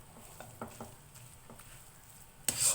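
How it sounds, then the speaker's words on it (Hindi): Cooked chicken spaghetti being mixed in a pan makes soft, scattered scraping and stirring taps over a faint sizzle, ending in a brief louder hiss. "इसको मिक्स करेंगे"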